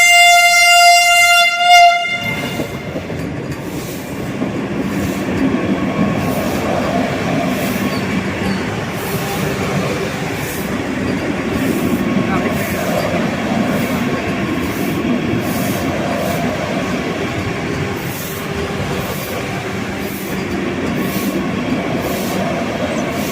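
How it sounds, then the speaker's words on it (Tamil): The Amrit Bharat Express on its inaugural run from Malda Town to SMVT Bengaluru opens with a loud horn blast, then a steady rumble of wheels and carriages rolling past nearby with rhythmic clacks over the rail joints. "நம்மளோட வந்தே பாரத் போகுது"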